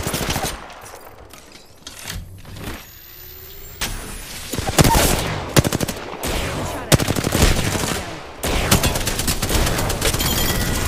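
Apex Legends gunfire rattles in repeated automatic bursts with sharp single shots between them, loud and close amid game effects.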